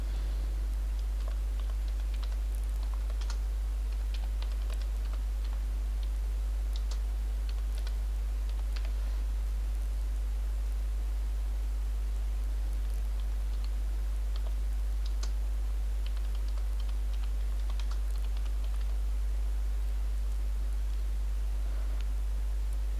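Someone types a question on a computer keyboard, with a steady stream of soft key clicks over a low constant hum, quiet and close, with no speech.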